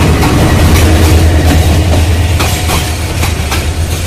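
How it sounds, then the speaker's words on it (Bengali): A Bangladeshi passenger train, the Brahmaputra hauled by locomotive 2910, rumbles past very close and loud, with a heavy low drone and rhythmic clickety-clack of wheels over rail joints throughout. "দ্রুতযানের অপেক্ষায় থাকতে থাকতে আরেকটি ট্রেন চলে আসলো, ব্রহ্মপুত্র মনে হয় এটা"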